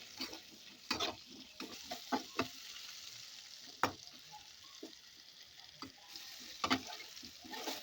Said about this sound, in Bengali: এবার ওই তেলের মধ্যে আমি আলুগুলো ভালোভাবে লাল লাল করে একটু ভেজে নেব